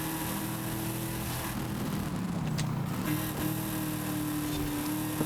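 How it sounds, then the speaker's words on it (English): A car engine in the video game Forza Horizon 5 drones at high revs in a steady, loud, continuous run with a brief dip and shift in pitch midway, no speech. "Turns out this car can turn some more RPMs."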